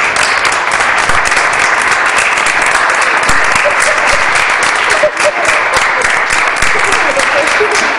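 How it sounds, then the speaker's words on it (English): Loud, sustained applause from an audience giving teachers a standing ovation, a thick, continuous roar of clapping from a large crowd that barely varies over several seconds, with faint voices buried in it. "I'd actually like to give them a round of applause and a standing ovation."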